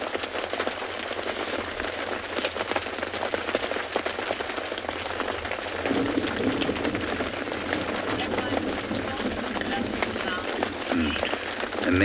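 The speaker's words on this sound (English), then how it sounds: "many of you still commenting on the sound of the rain" Steady rain pours over an African safari drive, drumming on surfaces in a broad, constant hiss that stays loud and close throughout, with a voice speaking faintly underneath.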